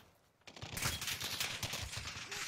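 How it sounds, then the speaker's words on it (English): Video game gunfire erupts after a brief quiet moment, then rapid overlapping bursts of automatic shots rattle on continuously at mid distance, dense and loud with no talking. "They're all just shooting, bro."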